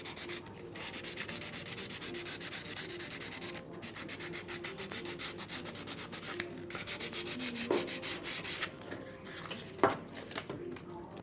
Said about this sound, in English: I'm using a very fine sandpaper here